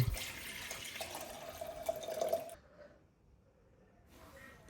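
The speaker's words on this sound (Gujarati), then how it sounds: "ગરમ પાણી નીકાળી દઈએ હવે." Hot water poured out of a vessel at home in the morning, a close trickling stream for about two and a half seconds that stops abruptly, followed by faint room quiet.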